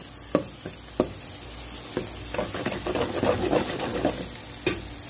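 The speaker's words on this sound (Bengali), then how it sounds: "এখন আমি ডিম দুটো দিয়ে দেব" Two eggs frying in a pan and being stirred, a broad sizzle that swells in the middle, with a few sharp clinks of the utensil against the pan, close and steady without any talk.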